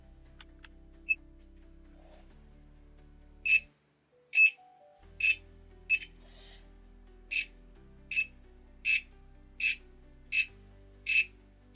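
A Minipa ET-2517A multimeter's continuity-test beeper gives a string of short electronic beeps, about a dozen sharp, slightly tremulous chirps at irregular then steady intervals over a quiet low hum.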